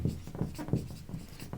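Chalk or marker scratching across a board during a physics lesson on self-induction and inductance, a close, rhythmic scrape of short strokes with no talking.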